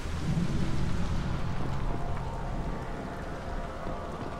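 Steady rain and low rumbling thunder fill a stormy scene in the Mass Effect 2 video game, a continuous dense wash that starts louder and eases slightly, with no speech.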